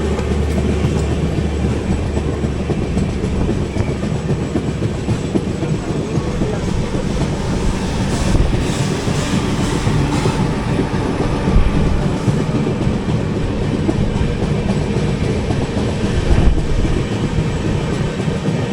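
The 12805 Janmabhoomi Express runs on rails between Guntur and Secunderabad, heard from inside an AC Economy coach as a loud, steady rumble with rhythmic clickety-clack of wheels over rail joints throughout.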